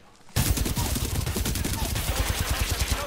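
Rapid automatic gunfire from a weapon in the video game Titanfall 2, loud and close, starting abruptly after a short quiet moment and continuing as a steady dense stream of shots to the end.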